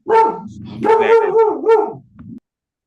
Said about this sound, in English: It's Chicago, some random dog barking.